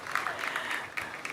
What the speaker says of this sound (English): Would like to give another round of applause to the ESFCDA for giving us that explanation most required.